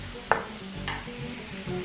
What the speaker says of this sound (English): I'm going to start off by frying our tomatoes.